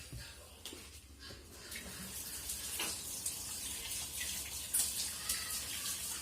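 Water gushes from a kitchen tap into a sink while bread dough is being made, a steady close hiss with splashing that shifts slightly as hands move under the stream.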